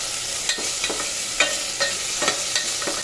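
Potatoes fry in hot oil in a pan, sizzling continuously and loudly while a spoon stirs them, with several sharp scraping strokes spaced through it.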